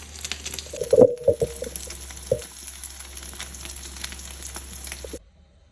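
A Thai omelette (khai jiao) crackles in hot oil in a pan, with a few sharp spatters near the start and a steady soft sizzle that stops abruptly near the end.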